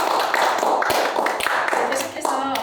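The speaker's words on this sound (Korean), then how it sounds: "다시 한번 박수 부탁드립니다" Audience applause at a Korean forum lecture on impact investing, a steady wash of clapping from a seated crowd that fills the whole stretch at moderate loudness, with a few sharper individual claps standing out.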